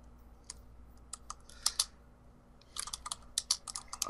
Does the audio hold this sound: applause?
no